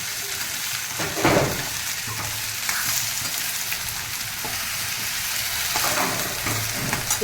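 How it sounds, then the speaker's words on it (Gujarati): Okra sizzles loudly in hot mustard-seed and cumin tempering oil, a constant crackling hiss with occasional bursts of spattering as it's stirred, close and without talking. "ભીંડાને આવી તો તડકો લગાવી દેવાનો પેલો"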